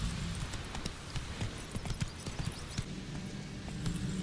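Horse hooves clip-clop in a loose, steady rhythm over a soft ambient bed in The Witcher 3, a faint, mid-distance walking gait with no voices.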